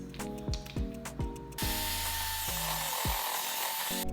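A mixer whirs steadily in a bowl as heavy cream is mixed into chocolate cake buttercream. A few short pitched tones come first, then a continuous, fairly loud whirring runs to the end.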